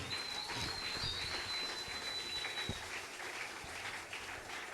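A church congregation applauding and cheering for the king of kings, a faint steady wash of clapping and crowd noise with a thin high whistle-like tone over the first few seconds.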